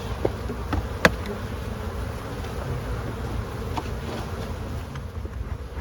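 Honeybees buzz around an open spring hive, a steady close drone of many wings with an occasional louder bee passing near, with no voices.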